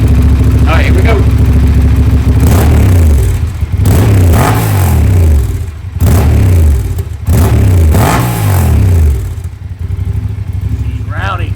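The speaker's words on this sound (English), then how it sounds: "Let the bike warm up, and then of course we're going to give it some revs." Honda Transalp XL750 motorcycle fitted with aftermarket header pipes, revved hard in a series of loud throttle blips that climb and fall back to idle, close up and without talk.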